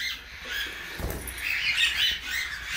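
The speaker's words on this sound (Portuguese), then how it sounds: "Esse é um periquito macho, mestiço." Male crossbred budgerigar giving a few soft, high chirps and twittering calls close by, over a constant faint background hiss, with no talking.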